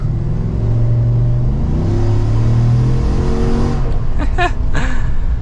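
A Procharger-supercharged 2024 Chevrolet Silverado 1500 ZR2 pickup accelerates hard, a loud, rising engine roar with a whine climbing in pitch over several seconds.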